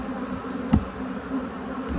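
A steady, low buzz of honey bees at a hive drones throughout, like a mass of bees humming, with a brief louder thump near the middle.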